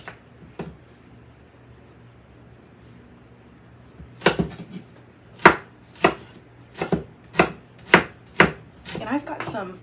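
A knife dices onion on a chopping board, about eight sharp, evenly spaced chops that start after a quiet stretch, close and clear, with no talk.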